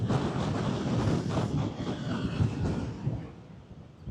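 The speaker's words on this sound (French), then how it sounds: "Oh là là là là, il y a trop de vent." Strong wind blowing through a street in Dakar, Senegal, a loud rushing, buffeting roar against the microphone that surges and eases, easing off toward the end, with no voices.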